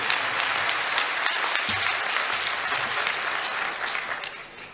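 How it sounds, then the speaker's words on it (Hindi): A hall full of attendees at a Sirvi business, industry and employment conference in Indore claps loudly and steadily, the applause easing slightly toward the end. "एक बार जोरदार ताली मेरे समाज के लिए, मेरे अपने लिए।"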